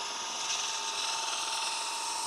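Faint, steady high-pitched hiss and whir of a wood lathe deep-hollowing cut with a long-bevel gouge, the tool shaving wood continuously with no break and no voices.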